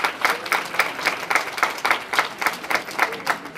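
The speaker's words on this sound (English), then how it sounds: "Let's give another round of applause to Ian Hall." An audience at a senior census information event in Newark applauds with steady, dense clapping that stays fairly loud and even for the whole stretch, with no talk over it.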